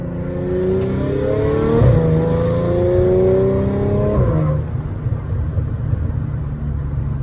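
A 2015 Audi S5 engine drones and revs up close, its rising whine cutting off abruptly, then a rough, crackling exhaust burble and rumble follows.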